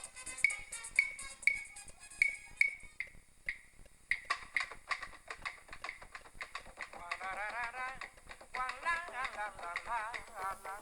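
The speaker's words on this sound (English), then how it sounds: "Clave sounds like this." Sharp wooden clicks tap out a repeating syncopated pattern, then a brighter chiming melody with percussion enters, the rhythm steady and up close.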